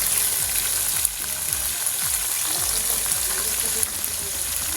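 Tomatoes drop into a pan of fried onions, setting off a loud continuous sizzle with a spatula scraping and stirring in a regular rhythm, alone with no voice.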